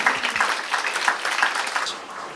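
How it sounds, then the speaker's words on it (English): A conference audience applauds at a session on war and human attitudes, a dense, steady patter of many hands clapping that fades slightly toward the end. "Yes, a round of applause is due."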